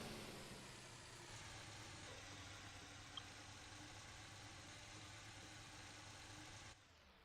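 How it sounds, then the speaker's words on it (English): A car engine idles steadily in the driving game Motor Town, a constant close rumble that runs unbroken for about seven seconds, with one tiny click near the middle, before cutting down to a quieter hum at the end. "Turn off that loud engine."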